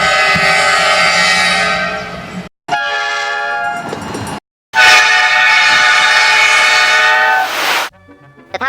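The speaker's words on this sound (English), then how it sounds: "equipping the train sets with a Nathan P1234A5 air horn, a variation of the Nathan P5" Several loud, close blasts of a Nathan P1234A5 multi-chime air horn on an Amtrak RTG Turboliner, rich sustained chords cut by brief silences, each blast held for a couple of seconds.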